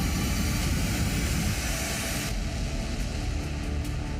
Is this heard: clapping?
no